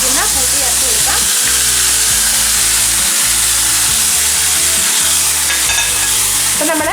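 A spice mixture is added to hot oil with dried red chillies for a fenugreek theeyal curry. Loud continuous sizzling plays under repeated rhythmic scraping strokes of a spoon stirring in the pan.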